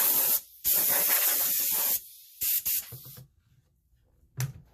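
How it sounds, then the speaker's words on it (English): A compressed air hose blows in loud hissing bursts, several long blasts and short puffs, then quieter short spurts, while parts of an old fire truck are being cleaned. "Let me grab my air hose again."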